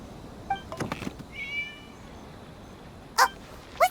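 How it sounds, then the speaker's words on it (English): A cat in the video game Genshin Impact gives a few short meows, spaced apart over quiet background ambience, with a brief higher cry near the end. "It was just a cat."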